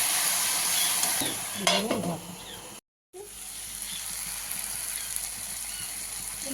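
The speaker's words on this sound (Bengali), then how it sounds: "এবার ভাজা ভাজা করবো আস্তে আস্তে করে" Malabar spinach leaves frying in a pan give a steady sizzle with scraping stirs, briefly cut off by a short gap and then continuing more quietly.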